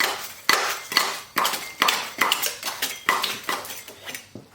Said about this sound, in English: We'll use our putty knife to get down in the cracks.